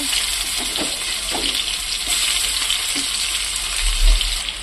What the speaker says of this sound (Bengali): এরপরে ওই তেলের মধ্যেই পেঁয়াজ দেবো।